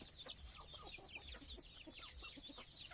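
Chicks and hens cluck and peep continuously while they are fed grain at a farmyard feeding, with overlapping small calls over a steady background hiss and no talk.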